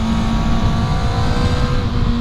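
Sport bike with a 600cc-class engine pulling hard under acceleration, a steady loud droning engine note sustained throughout with no talking.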